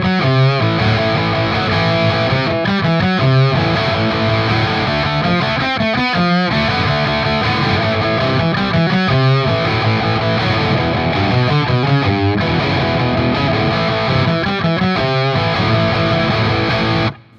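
Distorted electric guitar plays the opening 12-bar riff of a song, loud and close, with a steady driving rhythm of chugging chords and repeated fast note runs, cutting off sharply at the end.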